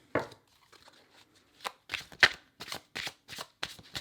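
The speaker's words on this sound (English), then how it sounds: "let's just do one more shuffle here" Tarot cards are shuffled in a series of quick riffling bursts, crisp and close, coming in irregular rhythm with brief pauses between.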